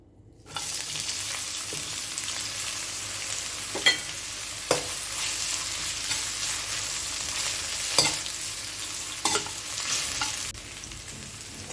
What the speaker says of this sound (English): when the oil is hot, I'm just going to fry some onions.